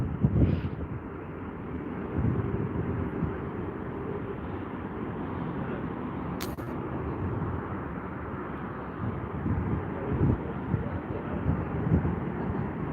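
A jet airliner departing Heathrow on runway 09 right, a broad sustained roar heard from a distance with wind buffeting the microphone, steady for the whole stretch with a brief click partway through.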